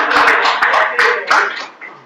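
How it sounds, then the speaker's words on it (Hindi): Students in a classroom clap for a classmate, a short burst of quick, uneven handclaps close by that taper off toward the end, with no speech over it. "दीपांश के लिए ताली हो जाओ जरा सारे बच्चे।"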